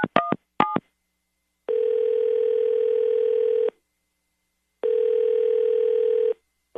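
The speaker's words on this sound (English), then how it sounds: "I'm going to dial him right now." A telephone call being placed: a few quick keypad beeps, then two long, steady ringback tones separated by a short silence, clear and close.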